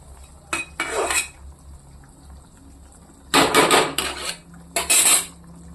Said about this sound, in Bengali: দিয়ে আমি একটু সময় এটাকে ঢাকনা দিয়ে রাখবো